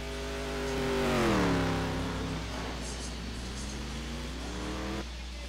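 A Ford GT race car in a racing video game revs up, its engine pitch climbing then dropping through a gear change before pulling steadily again, loud and close with no talk.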